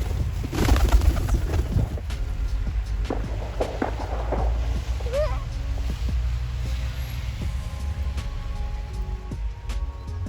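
Pigeons coo softly while being fed wheat outdoors in snow, amid bustle, with scattered shuffling and a low steady rumble underneath.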